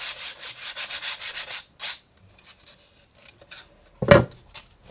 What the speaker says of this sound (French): Le but ici n'est pas d'enlever toute la peinture, simplement on adoucit la surface.